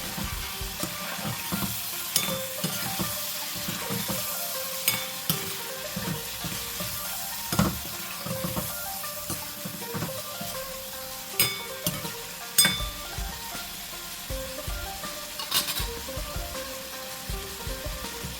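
Prawns with turmeric sizzle in a pan on high flame, a constant crackling hiss cut by repeated clinking, scraping stirs of a spatula, close and fairly loud.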